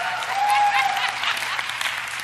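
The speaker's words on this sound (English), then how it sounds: "Clap, clap, clap right there. That's a good place to clap." A church audience applauds during a sermon, producing a sustained wash of clapping that stays steady for the whole stretch, with a faint voice briefly audible within it.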